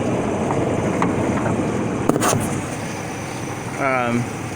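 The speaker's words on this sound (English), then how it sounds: "There's the motor running." Engine of a 1997 GMC Safari camper van idling, a steady low rumble with background noise and a brief rattling burst, with someone talking over it.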